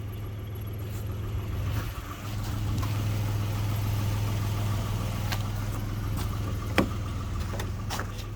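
A Nissan Xterra engine runs steadily after an engine swap, a low continuous idle hum holding close and even throughout, with a few faint clicks and rattles on top.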